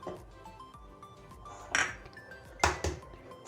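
Eggs go into a mixing bowl while making gulab jamun: two distinct clinking knocks against the bowl, the second sharper and louder, over a quiet background.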